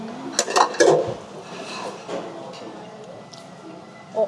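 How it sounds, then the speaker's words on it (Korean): Several empty ceramic plates clatter and clink close by in quick succession as they are dropped into a conveyor-sushi return slot, followed by quieter rattling and a faint knock. "다 먹은 거는 여기다가 접시를 하나씩 빠뜨리기"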